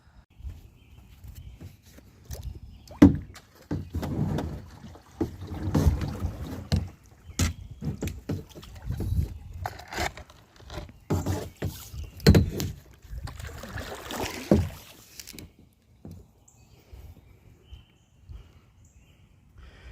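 Paddling a Quest Canyon 100 sit-in kayak on a river with logjams: irregular close splashes, paddle strokes and hull knocks with bursts of water noise, fading to near silence at the end.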